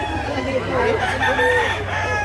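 A native rooster crows in one drawn-out, wavering call, close and fairly loud over steady background noise.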